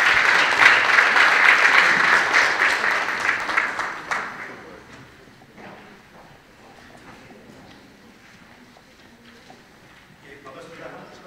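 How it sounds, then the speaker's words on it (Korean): An audience at a Korean academic seminar on completing Sejong as the administrative capital applauds: dense, loud clapping for about four seconds, then it thins out and fades into a quiet room with scattered sounds. "박수로 맞아주시기 바랍니다."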